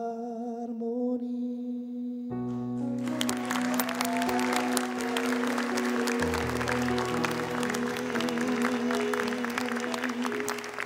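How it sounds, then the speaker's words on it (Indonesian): Audience applause at a live motivational stage show, bursting in after a held musical chord and continuing as dense clapping over lingering music to the end. "Ya, tepuk tangan sekali lagi untuk Mas Trias."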